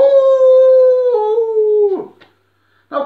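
A voice imitates a wolf howling, one long sustained tonal howl that slides down in pitch, close and loud, then breaks off, followed by a pause and a brief burst of sound at the end.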